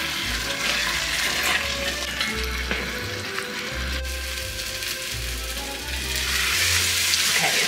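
Onions caramelizing in a pot for French onion soup, a steady sizzle and crackle with repeated low scraping thumps of a spoon stirring across the bottom, close and continuous without talk.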